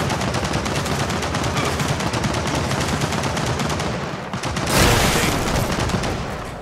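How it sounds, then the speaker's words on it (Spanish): Dense automatic gunfire from the video game Gears of War 4 rattles continuously in rapid bursts, loud and close, swelling into a heavier blast near the end with no talk. "Todos concentran los disparos hacia mí."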